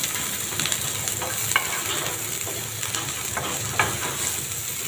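Onions and green chillies fry in a pan with a steady, close sizzle, broken by repeated scraping strokes of a spoon stirring through them, and no voices.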